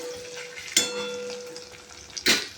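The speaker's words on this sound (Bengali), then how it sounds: "পেঁয়াজটা একটু লাল রং ধরে এলে তারপর কিন্তু আমি বাটাটা দিয়ে দেবো। এটাকে হালকা করে ভাজবো।" Onions fry in oil with spice paste for a katla fish curry, giving a steady low sizzle under a faint hum, broken by two brief louder clatters of stirring.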